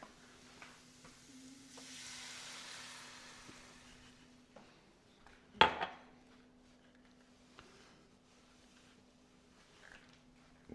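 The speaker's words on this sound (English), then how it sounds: "Now we're going to add 1 cup of beef broth." Beef broth goes into a hot pan with cooked flour and oil, bringing a soft sizzling hiss, one sharp clatter of a utensil against the pan, and quiet scraping over a steady low hum.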